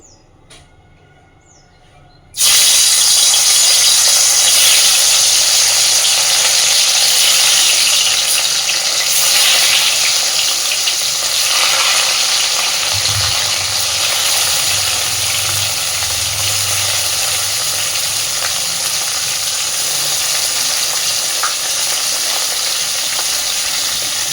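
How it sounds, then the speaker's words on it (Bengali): Salted, turmeric-coated fish drop into hot oil and fry with a sudden loud, steady sizzle that runs on unbroken for over twenty seconds after a quiet start, with no talk. "এবার আমি লবণ আর হলুদ মাখিয়ে রাখা মাছগুলো ভেজে নেব।"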